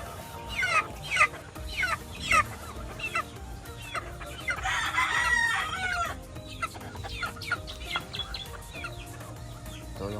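Roosters crowing and hens clucking in a backyard breeding farm, several loud nearby crows with repeated clucks between them, no talking.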